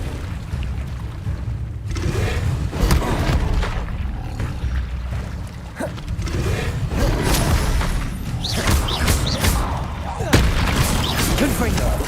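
Hogwarts Legacy combat with the disarming spell being cast: a string of booming magical impacts and thuds layered over battle noise and music, loud and fairly continuous.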